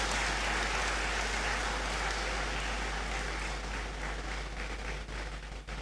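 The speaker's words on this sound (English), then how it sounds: "Please, let's applaud them for their sponsorship." An audience at a university academic awards ceremony claps for sponsors, a steady wash of applause at moderate distance under a low hum, thinning near the end.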